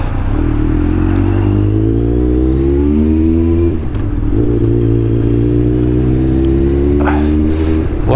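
A Yamaha XJR 1200 or Suzuki GSX 1400 motorcycle is ridden with a loud, close engine drone that rises in pitch, drops briefly around a gear change, then climbs again.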